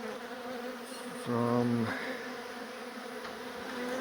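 Honey bees buzz around a beehive being relocated from inside a garage wall, a steady insect drone with a louder close pass by one bee, while a person speaks briefly nearby.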